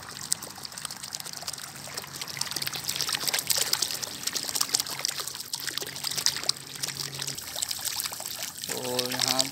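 Water trickles and pours steadily into a field outdoors, a continuous splashing flow with some background noise throughout.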